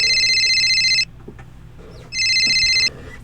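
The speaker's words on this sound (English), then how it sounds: "sorry, I'm getting a phone call" An incoming call rings on a phone: two loud, bright electronic ring bursts, each about a second long, separated by a short gap filled with faint room noise and soft movement.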